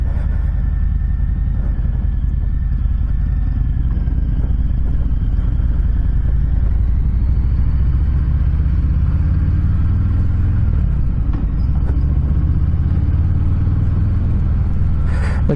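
A 2020 Harley-Davidson Softail Fat Boy 114 rides on the road, its engine giving a loud, continuous low rumble that swells slightly with throttle, mixed with wind noise throughout.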